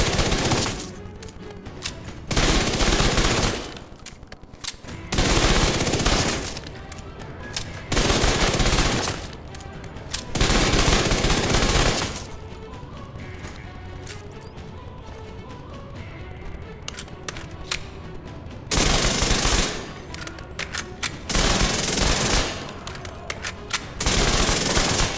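SMG fire in The Division 2 comes in long sustained bursts, loud and close, each lasting a couple of seconds and separated by brief quieter pauses, repeating through the whole stretch.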